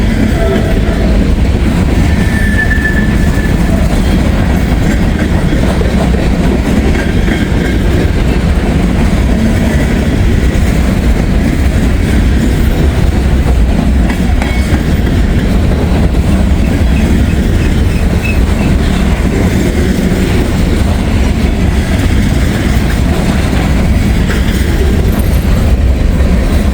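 A freight train hauling old, worn gondola cars rolls steadily past close to the track, a loud continuous rumble with clattering wheels that persists for the whole stretch.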